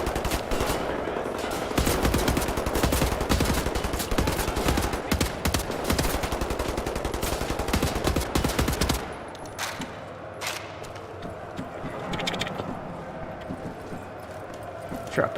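Rapid automatic gunfire in the video game Wolfenstein: The New Order, a dense burst of rattling shots for about nine seconds, then sparser scattered shots and quieter game sounds.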